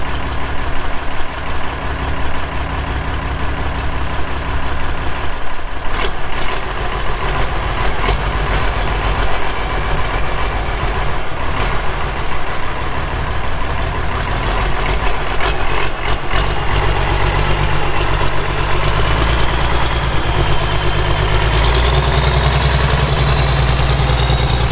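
A Ford truck fitted with a swapped turbo diesel idles on its first run, a loud, close, steady low rumble with knocking clatter that holds for the whole stretch, briefly rising and settling near the end.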